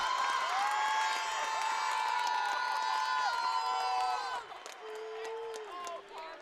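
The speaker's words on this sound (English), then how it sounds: "the student section on the far side was starting the I Believe We Will Win cheer" High school volleyball state semifinal crowd with the student section on the far side starting the I Believe We Will Win cheer, a dense chant of many voices under a commentator talking.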